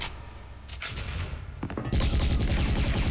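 Rapid bursts of Devil UZI submachine-gun fire in the online shooter Special Force, a dense, loud fusillade that intensifies toward the end with no voices over it.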